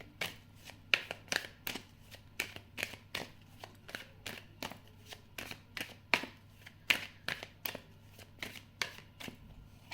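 Tarot cards are shuffled and drawn by hand, giving a steady run of crisp, evenly spaced riffling snaps that repeat about twice a second, close and clear over a quiet background.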